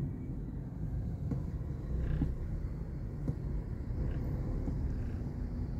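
Steady low rumble of slow car traffic on an expressway near the airport at night, a continuous dense drone with faint passing engine swells and no talking.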